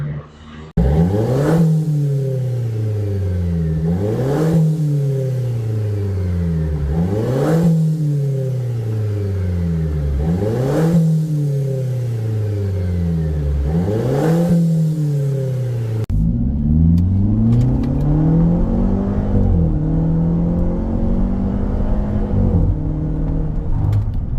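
A Mercedes-Benz SLK R172 with an aftermarket Euro Art exhaust revs up hard in repeated surges, each climb cut by a sharp gear change, then settles into a lower, rumbling pull; loud and close.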